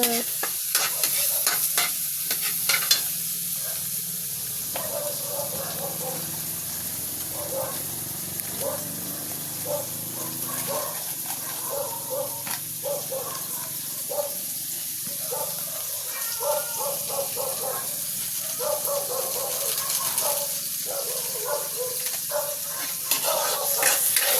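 Meat sizzles steadily in a pan while a spoon scrapes and stirs it, with a constant frying hiss and irregular stirring clatter throughout.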